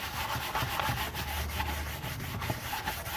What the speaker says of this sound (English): Just scrub them and scrub them again.